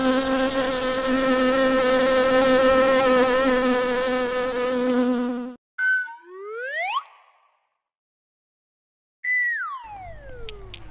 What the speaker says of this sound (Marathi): बी म्हणजे मधमाशी.